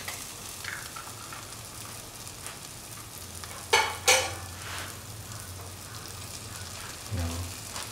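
Two cracked eggs fry in a pan for dry scrambled eggs, a soft steady sizzle with a couple of sharp crackling bursts and brief utensil touches, fairly quiet.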